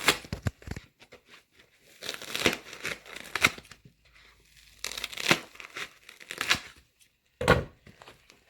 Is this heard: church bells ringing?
no